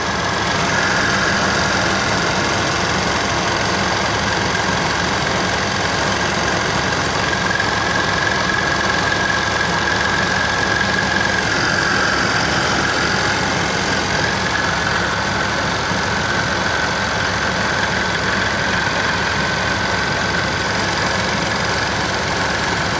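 A car engine idles while its AC compressor runs continuously during a refrigerant top-off with R134. The result is a loud, steady, close mechanical drone with a faint whine layered on top, and it holds without a break throughout.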